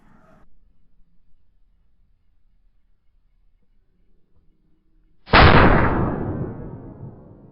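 A single loud shotgun blast rings out during a rabbit hunt with beagles in Pennsylvania woods, a sharp close report that decays over about two seconds after a long near-silent stretch.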